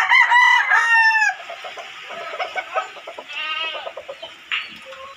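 A rooster crows loudly and close at the start, then chickens cluck in short repeated calls from a small backyard poultry pen, with other farm animal noises nearby.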